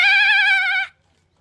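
A single goat gives one high, wavering bleat that lasts under a second and cuts off sharply into silence, close and loud.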